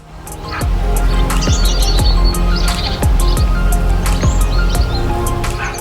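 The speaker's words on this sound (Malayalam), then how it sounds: "ഇവൻ്റെ പേരാണ് ബ്ലാക്ക് ക്യാപ്ഡ് ലോറി കറുപ്പും ചുവപ്പും പച്ചയും നീലയും കലർന്ന നിറത്തിലുള്ള തത്തിയാണ്" A black-capped lory, a parrot mixing black, red, green and blue, calls inside an indoor rainforest in Dubai, giving sharp repeated chirps over a steady humming background and other bird tweets.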